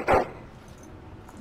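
A dog in the Dragon Age: Origins video game gives a single short, loud bark, followed by quiet game ambience.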